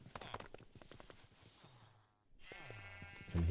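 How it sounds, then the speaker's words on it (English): Sheep bleats from a Minecraft modpack game, two drawn-out wavering cries, the second louder and closer, rising over a background of soft game clicks and ambient tones. "Sheep are weird."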